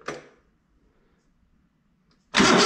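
A small engine on a zero-turn mower being started with the choke on: a brief mechanical rattle at the start, then near silence, then the engine suddenly catching and running loud and steady at the end.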